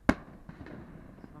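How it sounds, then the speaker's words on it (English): A single sharp firework blast at the start over the water near a boat, followed by a faint rumbling echo and crackle fading into the background. "somebody decided there was a reason for fireworks tonight."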